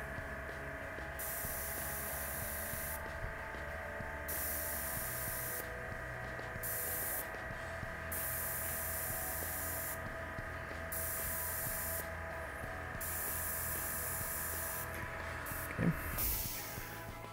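An airbrush sprays paint onto an Infinity tabletop miniature in short repeated bursts of steady hissing air, each lasting one to two seconds with brief pauses between them, heard close up over a constant background hum.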